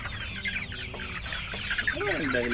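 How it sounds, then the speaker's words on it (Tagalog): Chicks in a farm brooder bedded with rice hulls cheep and peep frantically in a dense, overlapping chorus, with a few louder chirps rising near the end. "Kagulo naman ng mga sisiw eh, takot na takot."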